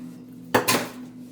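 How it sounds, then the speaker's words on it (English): Ingredients for a Hawaiian barbecue sauce tipped into a blender, one short clattering dump against the jar over a low kitchen hum, no talking. "And I'm going to dump this right into my blender."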